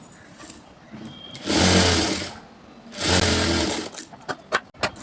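A sewing machine stitching blouse fabric in two steady whirring bursts of about a second each, close and fairly loud, then a few short taps and clicks.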